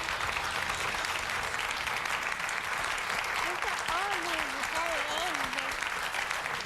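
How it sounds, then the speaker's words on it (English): Studio audience at a 2002 television talk show clapping steadily throughout, with faint voices talking underneath the applause. "They're clapping for you and your sister."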